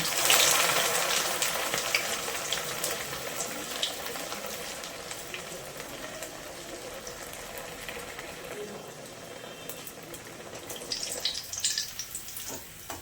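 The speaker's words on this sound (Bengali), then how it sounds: "তেল গরম হয়ে গেছে, এবার গড়ে রাখা ফ্রাইটা" Shaped fish fry cooking in hot oil in a wok, a steady bright crackling hiss that is strongest at the start, settles into a continuous sizzle, then flares up again near the end.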